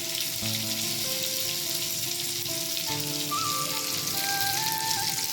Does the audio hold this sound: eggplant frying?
yes